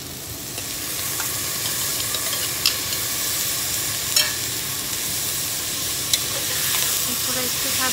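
Potatoes and peas frying in a pan for aloo matar paneer with soya granules, a steady loud sizzle with occasional scraping clicks of stirring throughout.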